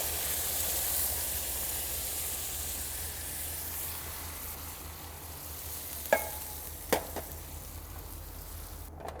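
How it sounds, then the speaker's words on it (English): Coconut milk poured into red curry paste cooking in a pan for coconut curry salmon, a steady sizzle and stir with two short sharp clinks near the end, no talking. "Next, we're gonna add in 1 can of coconut milk."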